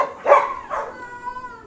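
A dog at an animal shelter, taken in ahead of Hurricane Dorian, gives two close sharp barks in quick succession, followed by a faint whining tone.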